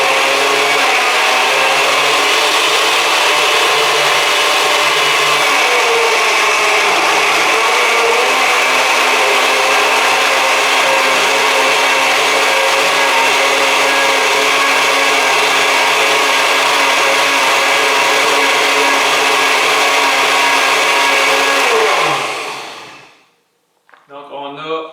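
A blender purées tomatoes with a little water for vegan spaghetti sauce, a loud steady whirring roar running continuously before cutting off abruptly near the end, with a brief rattle as it stops.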